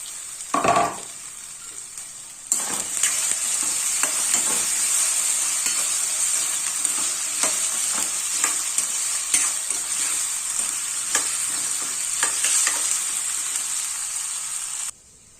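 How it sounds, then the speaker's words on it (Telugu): Potatoes for aloo fry sizzle in a hot pan, a steady bright hiss running continuously, punctuated by scraping stir clicks and brief splatters, preceded by a short loud clatter and a pause before the frying settles in. "ఇప్పుడైతే ఆలు ఫ్రైకి ఫ్రై చేసుకోవడానికి వేసుకుంటున్నా"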